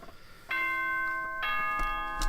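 A two-tone electronic chime from the Danganronpa video game rings out clearly, two sustained bell-like notes in sequence with a brief click near the end.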